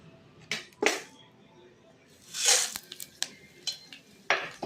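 Mustard seeds, cumin and pepper spluttering in hot oil for a tempering, scattered sharp pops and crackles at irregular intervals, a few louder sizzling bursts among quieter snaps, close by.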